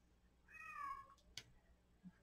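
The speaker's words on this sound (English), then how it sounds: "Sorry for my cat screaming out there," A cat lets out a single drawn-out, wavering meow, faint and somewhat distant, followed by a couple of small knocks in a quiet room.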